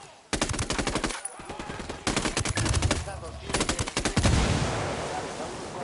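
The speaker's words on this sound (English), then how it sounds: "Open fire." Video game battle gunfire with a helicopter and vehicle nearby: loud rapid automatic bursts in several volleys separated by short pauses, ending in a rumbling wash.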